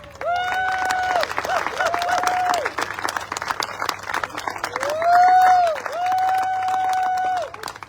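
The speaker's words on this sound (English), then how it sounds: "give them a massive round of applause when they get here" Crowd applauding board of directors members as they are introduced, dense clapping throughout with cheering and whoops rising over it, a long sustained tone sweeping through the middle.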